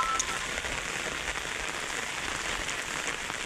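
Steady rain pours down in a village in Odisha, a dense, even hiss of drops striking surfaces that continues unbroken throughout, with no voices.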